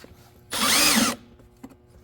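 A power drill bores out a rivet on a Can-Am X3 side-by-side door, a single loud whirring burst of about half a second, then faint handling noises.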